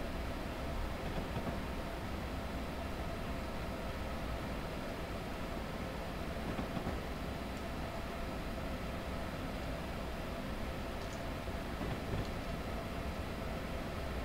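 An Amtrak Silver Meteor passenger train in Train Simulator 2019 gives a steady, broadband rumble and hiss of rolling wheels, faint and continuous with no distinct events.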